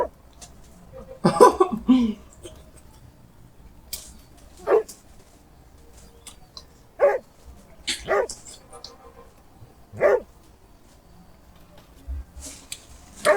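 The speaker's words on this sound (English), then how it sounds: "You see, this dog is a wonderful dog." A dog barks and yips in short, separated bursts at close range, with occasional whimpering between barks; a person speaks now and then between the outbursts.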